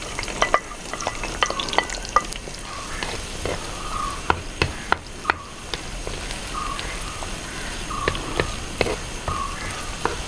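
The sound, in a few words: onion frying and stirred in hot coconut oil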